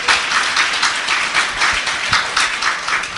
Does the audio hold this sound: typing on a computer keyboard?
no